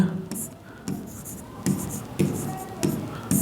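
A pen scratches out a Class 10 maths proof of Thales theorem on paper, giving short close strokes and taps over a low background hum, with a faint voice now and then.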